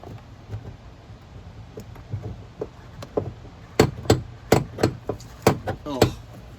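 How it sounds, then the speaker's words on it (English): Plastic door panel clips popping loose as the trim is pried off a 2007-2014 Chevrolet truck door with a tape-wrapped screwdriver, a burst of about seven sharp, close cracks following quieter scattered clicks. "I'm gonna go along the bottom with my tape screwdriver and try to see if I can find these clips and kind of get the bottom loose"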